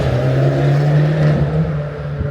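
A car with a big, loud aftermarket exhaust drones and rumbles steadily close by on a Blackpool street at night, with a deep, throaty engine note that swells slightly before easing off.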